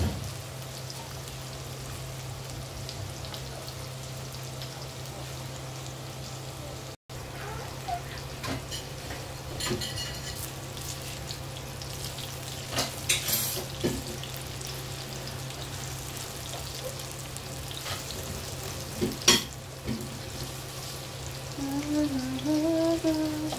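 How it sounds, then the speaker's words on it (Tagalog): Leftover grilled chicken sisig with eggplant frying in a pan, a continuous soft crackle and sizzle with scattered louder pops and occasional utensil clinks, heard close over a low steady hum. "let's fry it"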